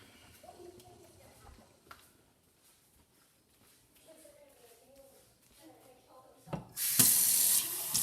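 Quiet, faint sounds give way near the end to a tap suddenly gushing water, loud and steady for the last second or so.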